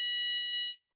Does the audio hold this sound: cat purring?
no